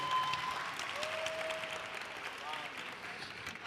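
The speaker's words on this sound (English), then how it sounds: "give him a round of applause that's loud enough" Conference audience at an open source tech event in Africa applauding steadily for several seconds, a dense even wash of clapping with faint voices and a few whistle-like tones mixed in.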